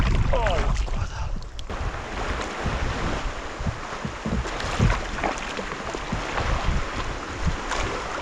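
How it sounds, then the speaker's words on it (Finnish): Waves on Lake Puula slap against a kayak during a trip, with heavy wind buffeting the microphone throughout and irregular splashes close by. "Alkaa olla ihan niinku todellista aallokkoa täällä."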